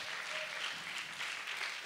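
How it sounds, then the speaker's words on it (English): A live audience claps together in a short, even burst of applause lasting under two seconds, a dense crackle of many hands heard fairly close with no voices over it. "I think we should definitely clap that one."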